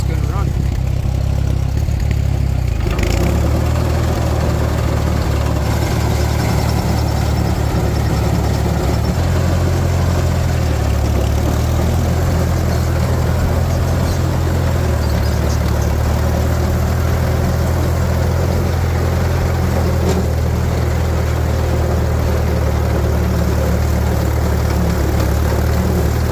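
A tractor engine cranks and starts, then settles into a loud, steady low-pitched idle with small shifts in speed, running on alone ahead of hay baling.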